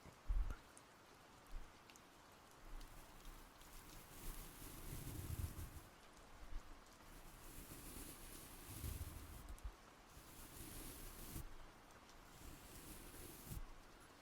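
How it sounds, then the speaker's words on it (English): Steady rain falls in a soft, continuous patter with gentle swells and scattered drips, quiet and close, with no one talking. "I noticed the rain sounds, yeah."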